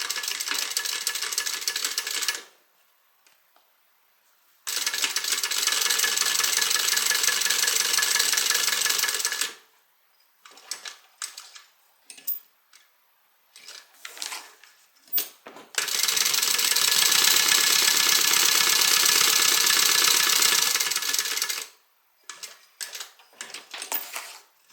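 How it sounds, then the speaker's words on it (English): A sewing machine stitches a tote bag's pocket and zipper placket in two long, loud, steady bursts, separated by quiet gaps and short stop-start runs of clicking and rattling. "to sew my pocket and the zipper placket at the same time"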